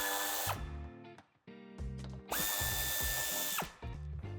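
Power tool whirring in short bursts as screws are removed from the bumper of a 2015–2019 Audi A4 sedan, several rising and falling runs, close and loud with brief pauses between.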